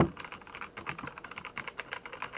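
Someone types on a Tesoro Tizona tenkeyless mechanical gaming keyboard fitted with Cherry MX Brown switches, producing quick, uneven clusters of close, crisp key clacks with no voices over them.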